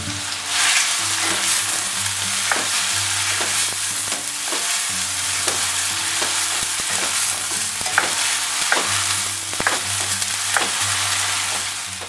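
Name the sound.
chopped onion frying in a pan for trout curry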